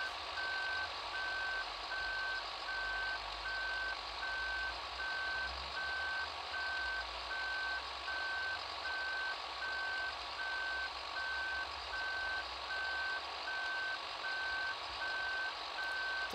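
A truck in the Farming Simulator video game sounds steady, evenly spaced reversing beeps throughout, loud and clear over a low engine hum, with no talking.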